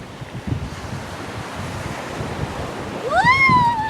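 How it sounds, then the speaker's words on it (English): Ocean waves and wind rush steadily across a beach, with wind buffeting the microphone throughout and a brief high whistling squeal rising near the end. "And we're at the beach"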